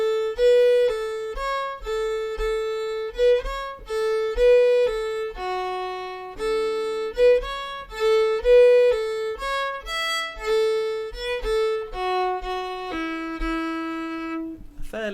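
Solo fiddle playing an Irish polka phrase, Britches Full of Stitches, with slurred bowing that links pairs of notes, a clear, close melodic line flowing at a lively, even pace.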